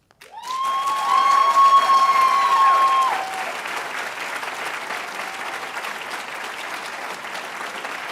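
An auditorium audience applauds at an oratorical competition after a speech, loud sustained clapping that swells at once, holds strongly for a few seconds, then settles into steadier, slightly softer applause that carries on to the end.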